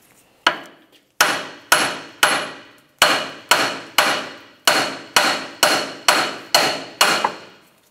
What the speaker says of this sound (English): Continue on with a hammer.